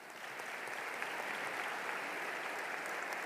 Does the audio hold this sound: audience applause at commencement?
yes